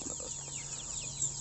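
Free-range village chickens (ayam kampung) cluck softly and steadily at a farm, their low calls a close, continuous murmur with no talk.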